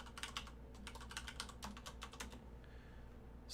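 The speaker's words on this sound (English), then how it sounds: "Let's just type it in." Keys on a computer keyboard clatter in a quick run of distinct, close taps as a password is entered, then fall quiet near the end.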